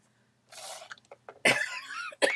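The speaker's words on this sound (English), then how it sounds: "Excuse me, I still have this cough." A few rough, close coughs and throat-clearing bursts break the quiet, one harsh cough standing out near the middle, with no talking.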